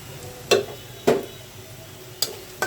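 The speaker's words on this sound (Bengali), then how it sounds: "এখন ভালোভাবে নাড়াচাড়া করে নিচ্ছি" Spoon stirring okra with lentils, turmeric, chili, coriander and cumin powders in a pan, four separate scraping knocks against the metal spaced about a second apart, close and clear over a faint sizzle.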